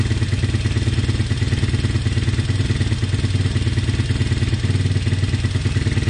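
A motorcycle engine with a freshly rejetted carburetor runs at a steady idle, a loud, even, rapid clattering putter close up with no talk.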